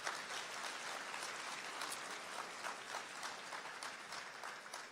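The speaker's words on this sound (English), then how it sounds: "Give yourselves a round of applause." Audience at a Day of Remembrance event for Japanese-American internment gives sustained applause, a steady dense clapping that fills the whole stretch without pause.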